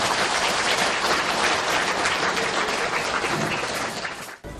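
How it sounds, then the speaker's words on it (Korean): An audience at a Korean Buddhist temple gathering claps in thanks, dense, sustained applause filling the space before it breaks off abruptly near the end. "다시 한번 주님께 감사의 박수를 올려주시면 좋겠습니다."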